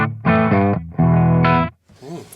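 Clean, dry electric guitar chords strummed in two sustained bursts with no reverb, followed by a brief quieter phrase of picked notes.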